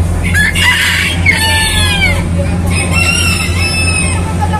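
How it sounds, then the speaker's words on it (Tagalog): Several chickens cluck and call nearby, with a rooster-like crow rising among them over a steady low background hum. "Mga manok."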